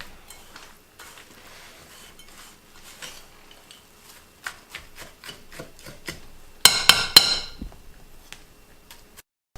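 Knife chopping sticky dates on a cutting board for granola, a run of quiet irregular taps and light knocks, then a brief cluster of louder sharp clatters before easing off.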